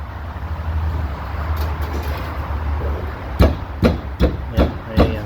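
A Jeep's engine rumbles steadily at idle, then about five loud, sharp bangs on its roll cage land in an uneven rhythm over the last two seconds, each ringing briefly with a metallic rattle.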